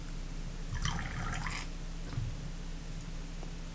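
Water is squirted through an atomizer with a dropper to flush out baking soda residue, giving a short, soft, wet spurt and a faint drip, quiet and close over a steady low background hum.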